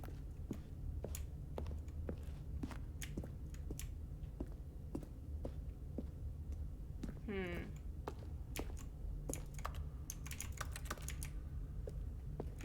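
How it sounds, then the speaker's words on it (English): Sharp mouse clicks tick out one after another in an uneven rhythm over a low steady hum during play of Ultra Deluxe, with a brief rising game tone midway and a flurry of faster clicks near the end. "I was just hitting them with click. That just makes clicking noise."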